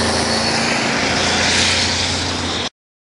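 An airplane drones overhead in the sky above Toronto, a loud, steady engine roar with a propeller-like hum that holds evenly and then cuts off abruptly.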